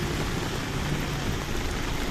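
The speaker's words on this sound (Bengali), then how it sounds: "প্রচুর বৃষ্টি হইতেছে" Heavy rain pours down in a dense, continuous hiss that stays steady and loud throughout, with no voices over it.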